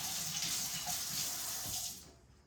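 Tap water runs steadily over a cinnamon stick being rinsed under the faucet, a broad close hiss that cuts off near the end.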